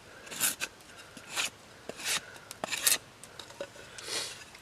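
A knife scrapes the outer layer off a chunk of wet wood in short, rough rasping strokes, about half a dozen close, quiet scrapes with brief pauses between them.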